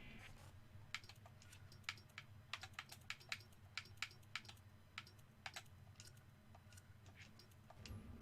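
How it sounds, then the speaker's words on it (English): Someone types on a computer keyboard in quiet bursts of sharp clicks, close up and faint, over a low background hum, with no one speaking. "I'm typing shame on you."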